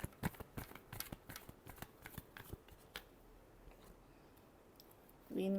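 Tarot cards are shuffled in a rapid run of crisp, close riffling clicks and flutters, ending in a louder rustle.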